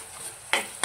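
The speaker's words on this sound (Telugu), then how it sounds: "అల్లం పేస్ట్ వేసి కలదిప్పుకోవాలి." Onions and ginger paste being stirred while frying in a pan, a short scrape of the spoon over a soft steady sizzle, close by.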